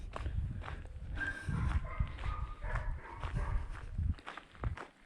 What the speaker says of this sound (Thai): หมาก็เห่าไปค่ะ